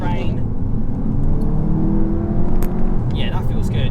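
A Mk3 Audi TT coupe engine pulls steadily in second gear around 3,000 rpm on a wet, rain-slicked road, a continuous close droning hum with road rumble and no talking.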